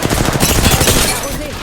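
Loud, rapid automatic gunfire in a video game, a dense burst of close shots that blurs into continuous fire, with a voice briefly audible near the end.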